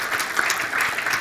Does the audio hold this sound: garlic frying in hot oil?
no